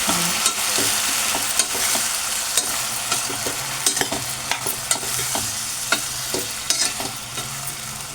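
Cauliflower curry is stirred in an oily pan, loud continuous frying sizzle broken by repeated sharp scrapes and clacks of a spoon against the pan at an irregular rhythm, with no voices.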